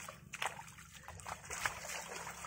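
Lukan shellfish are rinsed in water in the provinces, soft splashing and trickling close by, fairly quiet with irregular sloshes.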